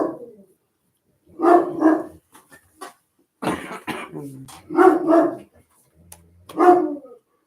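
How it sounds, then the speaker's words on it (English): A dog barks in several short bursts spaced a second or two apart at a house, loud and close, with small gaps of quiet between. "Hear my dog?"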